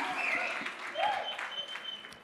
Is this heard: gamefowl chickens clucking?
no